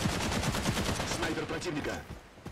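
Rapid gunfire from enemy snipers and teammates in the online tactical shooter Caliber, a close, dense volley of cracking shots that thins out toward the end, with a voice speaking over it.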